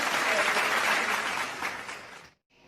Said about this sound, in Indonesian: Hebat, tepuk tangan dulu.